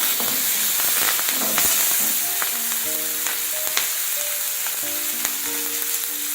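Green chillies and curry leaves crackle and sizzle in hot oil with a steady frying hiss, sharp pops and short tonal squeaks scattered throughout, heard close up.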